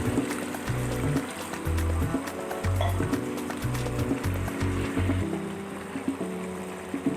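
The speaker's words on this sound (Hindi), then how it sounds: "अब हम इसमें शामिल करेंगे पानी" Water poured into a pot of aloo qeema, an uneven close splashing and gurgling stream that comes in bursts over several seconds alongside clattering background sounds.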